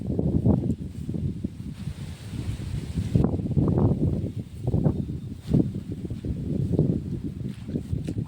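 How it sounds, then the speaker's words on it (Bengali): Strong storm wind gusting across an open rice paddy under a dark sky, heard close as steady rough buffeting and rustle on the microphone, rising and falling in bursts, with footsteps squelching through mud. "প্রচণ্ড হাওয়া হচ্ছে"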